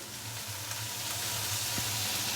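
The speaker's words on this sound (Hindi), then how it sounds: "एक से 2 मिनट के लिए हमने गोभी को हल्का सा फ्राई कर लेना है" Cauliflower pieces frying lightly in a pan with turmeric powder and salt for aloo gobi, giving a steady close sizzle and hiss with a low intermittent hum beneath, no one speaking.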